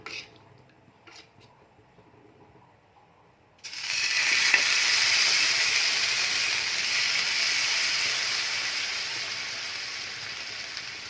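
Rava dosa batter spooned onto a hot pan: after a few quiet seconds a loud, hissing sizzle bursts in and holds steady to the end, fading only slightly, with no talking.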